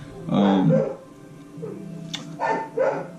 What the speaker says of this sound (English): My freaking dog is barking in the background, of course.